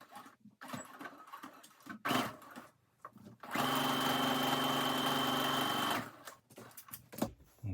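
A sewing machine stitching a pants side pocket runs in a steady, fast buzzing burst for a few seconds, bracketed by quiet handling clicks and rustles before and after.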